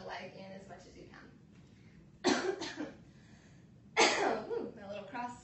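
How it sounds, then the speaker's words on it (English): Two distinct coughs from a yoga instructor during a class, close and moderately loud, separated by a short pause with quiet breathing and faint voice before. "my little cross made me cough"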